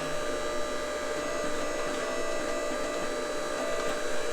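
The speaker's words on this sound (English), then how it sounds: "I'm going to start coming down with the machine" A MetalPro ironworker machine lowers its 7/16 square punch, giving a steady, loud mechanical hum and whir that holds evenly throughout, with no talking.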